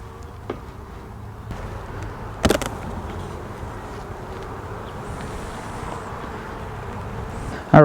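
Honey bees hum steadily around an open hive during an inspection, a continuous near buzz with occasional louder passes close by and faint wind in the background.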